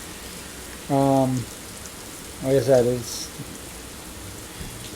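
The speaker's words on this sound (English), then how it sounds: "it's raining pretty good" Steady rain falls outside as a soft, continuous hiss, with someone speaking briefly over it.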